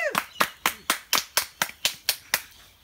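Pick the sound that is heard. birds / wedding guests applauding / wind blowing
wedding guests applauding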